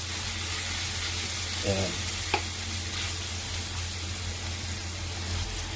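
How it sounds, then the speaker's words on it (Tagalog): Onions and other aromatics sautéing in a pan for a Bisaya-style chicken dish, a steady low frying sizzle with a brief stir or clink, and a short spoken word over it. "Maluto na yung mga pinagputsa natin na mga condiments na buyas."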